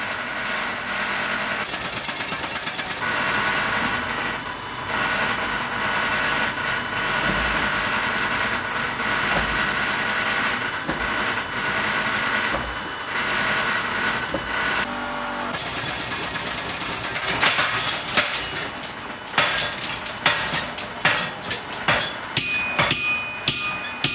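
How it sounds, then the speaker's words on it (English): A power hammer pounds rapidly and continuously on a hot steel Kent pattern English axe head being drawn out, a dense mechanical clatter that breaks into sharper, irregular strikes toward the end. "using the power hammer to draw it out this way"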